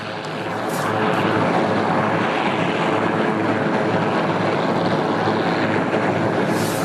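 A plane departs Joint Base Andrews for Washington, D.C.: a loud, steady roar of engine noise that swells in the first second and holds broad and constant throughout, with no talk.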